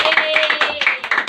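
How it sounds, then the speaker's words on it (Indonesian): Students in a classroom clap together in a quick, rhythmic pattern of close, sharp handclaps, with some voices mixed in. "Oke, tepuk tangan buat kita semua."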